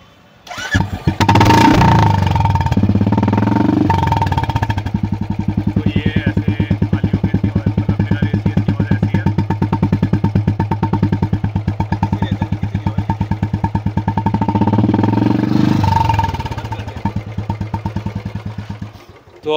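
A modified Royal Enfield Classic 350 fires up and settles into a loud, close, steady thumping idle with an even rhythm, lifting briefly near the end.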